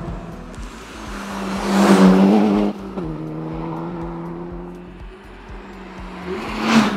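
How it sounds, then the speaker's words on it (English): A turbocharged Honda K20 engine in a DC2 Integra Type R revs hard, the buzzy note climbing, dropping at a shift, then pulling again with a loud flare at the end, heard close from inside the car. "So Honda loves to rev, it loves it."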